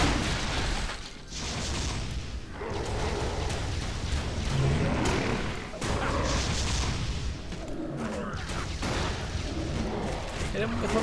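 Rapid gunfire and booming blasts from combat in the action RPG Torchlight II, a dense continuous barrage of shots and impacts with a voice talking over it.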